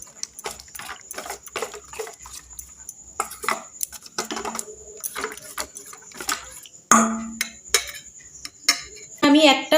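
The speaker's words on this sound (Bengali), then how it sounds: "এবার আমি ভালো করে মিশিয়ে নিচ্ছি।" Snack batter ingredients being mixed with water in a bowl, the utensil clinking and scraping against the dish in quick irregular strokes, close and fairly loud with a few sharper knocks toward the end.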